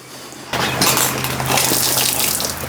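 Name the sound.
water running out of the back of a flashlight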